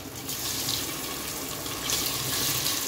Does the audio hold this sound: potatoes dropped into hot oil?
yes